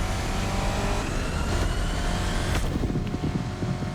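A Chevrolet Camaro engine in The Crew Motorfest holds a steady, moderately loud drone, then shifts and roughens slightly toward the end as the car keeps running.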